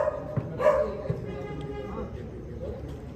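Dogs yip and bark in short bursts close by while several people chatter over them.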